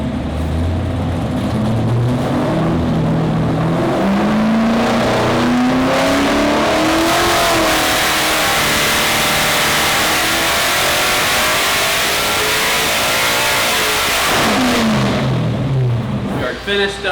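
Gas Monkey SEMA C10 engine on an engine dyno at LME, revving loudly as the pitch climbs through a long sustained pull, then dropping and rising again near the end, with voices talking over it.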